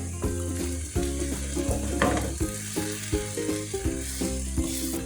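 Onion and carrot fry in a pan with a steady sizzle, broken by repeated scraping and stirring knocks and a few sharper clatters near the start.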